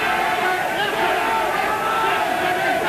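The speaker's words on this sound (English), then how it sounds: "Listen to the support from his home fans" Home fans roar in support of boxer Danny McGrail during his fight with Tony Miller, a dense, steady crowd noise that stays loud and unbroken throughout.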